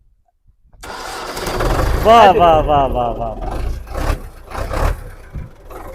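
A Belarus tractor engine cranks and fires up close by, settling into a loud, rough running rumble, while a voice calls out excitedly over the start.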